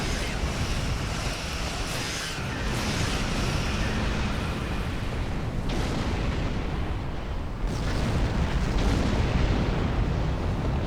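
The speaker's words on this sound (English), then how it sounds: "Firing station plasma lance in 3" In Star Trek Online, the Yamato-class dreadnought cruiser fires its station plasma lance, a loud, sustained roaring blast with rumbling bursts that swell and surge over several seconds and no talk.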